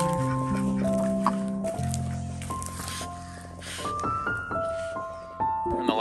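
Ducks near a hidden nest give a run of nasal quacks and squawks at fairly close range, irregular and overlapping, over quiet outdoor background.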